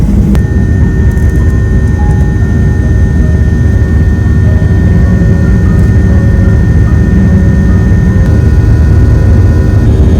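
Jet engines roar in a loud, constant low rumble inside an airplane cabin right after takeoff from Tampa airport, a dense unbroken drone with no voices.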